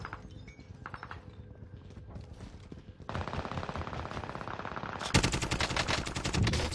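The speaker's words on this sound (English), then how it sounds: "I'm getting sniped from somewhere." Rapid bursts of video game gunfire crackle loudly and steadily, shots from a distant sniper mixed into a busy firefight that grows denser and louder toward the end, with no talk over it.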